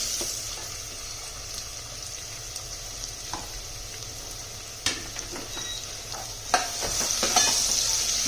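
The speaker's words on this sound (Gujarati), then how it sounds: "ડુંગળીને થોડી આપણે હલાવી લઈશું." Chopped onions sizzle in hot oil in a pan for a Kathiyawadi meal, a steady close frying hiss broken by a few sharp scrapes and clacks of a spoon stirring, louder near the end, with no talk.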